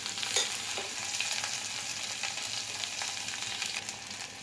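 Ginger and garlic sautéing in a pan give a steady, fairly close sizzle and crackle, with light scrapes from stirring spread through the whole stretch and no voices.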